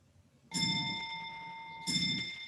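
Two chimes from a clock bell, each a bright ringing strike with sustained harmonic tones, the second arriving about a second and a half after the first, heard clearly in a quiet room with no talking.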